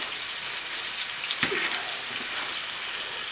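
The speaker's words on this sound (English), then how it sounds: "let me just cook these mushrooms, cooking them at a medium-high heat" Mushrooms sizzling in a pan of oil over medium-high heat, a steady soft crackle with one sharper pop partway through and no talking.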